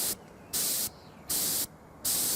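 A home-made airbrush with a hand-pumped compressor gives three loud, steady bursts of hissing spray, each about half a second long, separated by short quiet gaps, close up and with no voices.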